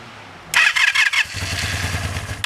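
A Honda Interceptor VF500 motorcycle engine catches on a cold start with a loud burst of rough, spluttering revs, then drops to an uneven, lumpy idle that keeps running steadily close by.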